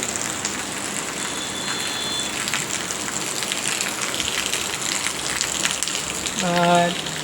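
Heavy monsoon rain pours down in Cuttack in a dense, steady hiss. A voice briefly speaks near the end.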